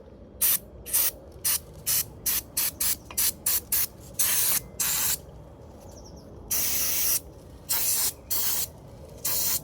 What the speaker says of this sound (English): I'm also going to try to get some WD-40 if I can on the rear sprocket, just get the rear sprocket a bit cleaner.